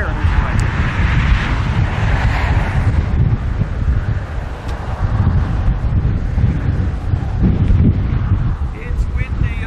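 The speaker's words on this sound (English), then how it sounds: "It's windy up here." Strong wind at a coastal lookout at Carbonear, heavy gusty buffeting across the microphone with a low roar throughout, while people talk under it.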